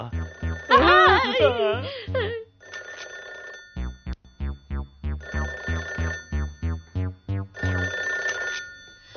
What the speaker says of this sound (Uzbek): Bu kechda telefon qilgan kimdi?